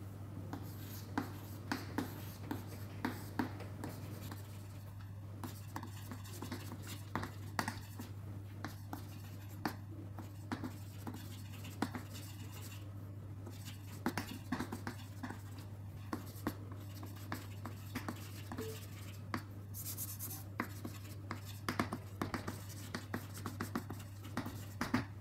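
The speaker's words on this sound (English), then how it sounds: "So, I can write down the problem on the board." Chalk or marker writing on a board during a lecture, faint repeated scratchy taps and strokes over a steady low room hum.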